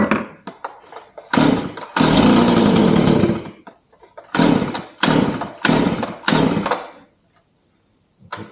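A STIHL MS 180 chainsaw is pulled and fires in a series of loud bursts, running briefly and dying several times, with one longer roaring run before it cuts out.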